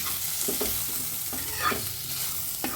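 Cumin, ginger and coriander seeds fry in a pan, giving a soft steady sizzle with several scraping strokes of a spoon, quiet and close, without talk.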